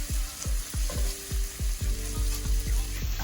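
Onions frying in a pot, stirred with a spoon that knocks the pot in a steady rhythm, about ten even strikes over a constant close sizzle and no talking.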